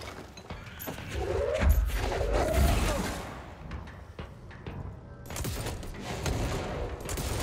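Gunfire and explosions from the video game Control: AWE: dense, continuous bursts of shots with heavy booming impacts around two and three seconds, loud and sustained, with a brief lull before the firing resumes.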